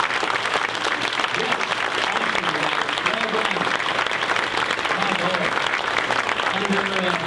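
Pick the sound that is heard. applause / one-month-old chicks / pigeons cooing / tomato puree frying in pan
applause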